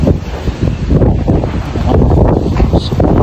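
Gusty wind roars and thumps against the microphone throughout, loud and close, with faint background noise beneath, outdoors among buildings in Rashidiya, United Arab Emirates.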